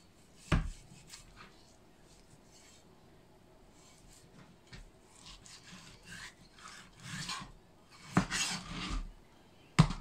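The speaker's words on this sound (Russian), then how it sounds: "Куриную грудку буду отделять от кости." A knife works a raw chicken breast off the bone, giving soft rubbing and scraping strokes at close range, mostly quiet with a few sharper bursts and taps near the start and end.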